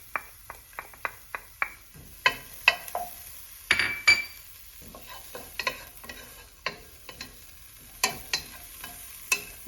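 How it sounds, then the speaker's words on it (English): Diced ginger fries with okra in a pan, giving soft sizzling under repeated clinks and scrapes of a utensil stirring against the pan in irregular bursts, close and fairly quiet. "And then I am going to add the ginger, the diced ginger."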